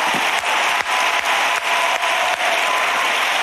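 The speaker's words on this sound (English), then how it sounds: "take both those hands and clap them" A church congregation claps hands together at a Tuesday evening service, loud and sustained like applause, with steady rhythmic beats roughly every 0.4 seconds running under the crowd noise throughout.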